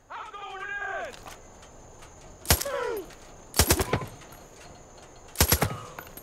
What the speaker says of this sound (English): I think I will just help the situation a bit with my gun.